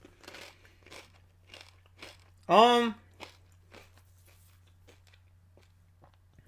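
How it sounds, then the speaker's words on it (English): Loud crunch of Zapp's Voodoo potato chips being bitten, one sharp close burst midway, amid a man's speech and a steady low hum. "I apologize if you hear me chewing, but these are really loud chips."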